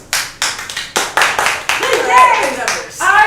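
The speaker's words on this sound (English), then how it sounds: "By your applause, let me know if you've been here before." A theater audience at an improv show claps, beginning with several distinct, sharp claps and building toward denser applause. Voices and cheering rise over the clapping near the end.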